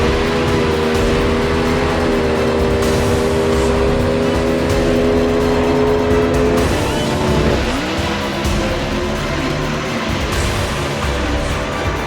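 Two Ford Cobra Jet drag race cars roar at full throttle down a drag strip, one lifting into a wheel stand, a loud sustained engine blare with shifting pitch and gear changes, no voices.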